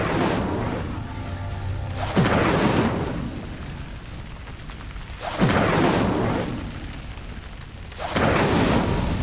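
A fire spell cast in Hogwarts Legacy: a few loud whooshing flare-ups, three swells of burning roar a few seconds apart, close and full, with no talk over them.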